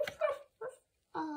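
A small dog lets out three short, separate barks and yips indoors, close and fairly loud, with quiet gaps between them.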